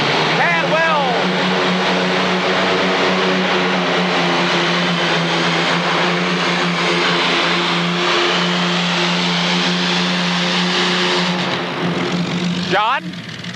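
A heavily modified pulling tractor engine roars loud and sustained at high revs during a 1986 indoor tractor pull in the 7200 modified class, pitch rising and falling slightly, with an announcer talking over the din.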